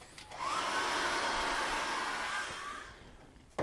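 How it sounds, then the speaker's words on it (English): A hairdryer blows air onto an acrylic seascape painting, a steady whooshing motor hum that rises in after a moment, holds for a couple of seconds, then fades as it is switched off. "Again, I'm going to dry that with a hairdryer."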